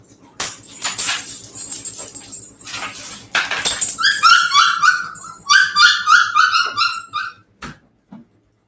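A mother dog whimpering and yipping close by, with rapid high-pitched whines in bursts after some rustling and faint knocks, then a brief thud and quiet.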